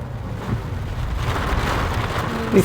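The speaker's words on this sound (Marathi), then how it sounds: "पाऊस चालू झालाय." Rain falls steadily on a four-wheeler during a drive, a broad even wash of patter and road hiss lasting throughout, with a brief knock near the end.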